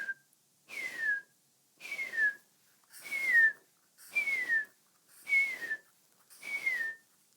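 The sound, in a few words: whistled imitation of a bullfinch call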